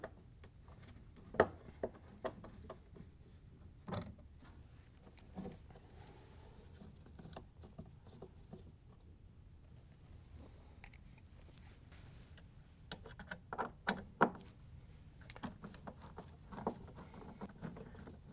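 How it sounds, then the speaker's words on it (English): Bolts being backed out of a washing machine pump with a 5/16-inch nut driver, heard as faint, irregular ticks and small metallic clicks over low background rumble, with a few sharper taps near the end. "We're going to use our 5/16-inch nut driver to take the bolts out."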